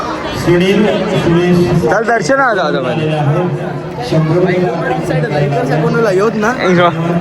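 A dense crowd chatters at a busy Maharaj darshan temple, a steady murmur of many voices close around, while a nearby person talks over the hubbub.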